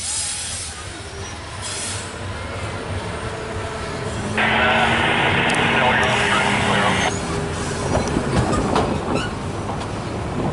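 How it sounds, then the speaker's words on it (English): A loaded CSX coal train rolls past close by, its wheels rumbling and clattering steadily, with a sustained high wheel squeal rising in the middle of the pass; a voice talks over the noise. "Coal train, you look good."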